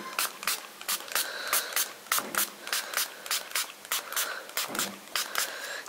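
Short bursts of hissing spray from an airbrush spraying alcohol-thinned makeup paint, sputtering unevenly, repeat in quick, uneven pulses, close and fairly quiet, with no talking.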